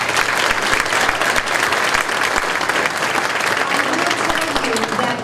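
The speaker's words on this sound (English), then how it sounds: "So in honor of Christie, give her a round of applause." Banquet audience claps in a dense, loud wash of applause that holds steady throughout, with scattered sharper individual claps and no clear talk over it.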